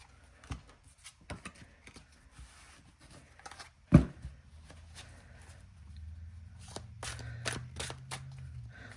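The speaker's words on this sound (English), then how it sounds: "Now let's take a look at how they shuffle and stuff." Tarot de Marseille cards being shuffled by hand, a slightly oversized 3 by 5 inch deck, heard as soft papery riffles and taps with one sharper snap midway and a denser rustling stretch toward the end, close and quiet.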